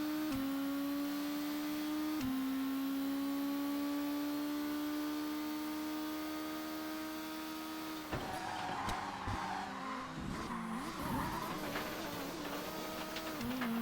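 Seat Leon Supercopa race car in ToCA Race Driver 2, with a steady engine drone that drops off the throttle into fluttering wastegate chatter and scrappy tire noise, loud and continuous with no talking.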